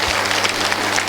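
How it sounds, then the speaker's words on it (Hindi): A live audience applauds loudly, with dense, steady clapping throughout the brief moment. "तालियां बहुत तेज होने चाहिए"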